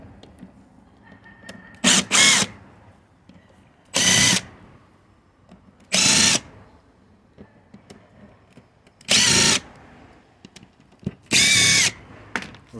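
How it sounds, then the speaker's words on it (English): Power driver bursts undoing Phillips screws held captive in an airbox lid during an underside service, five or six short loud whirs spaced about two seconds apart with quiet handling between. "Undo these screws."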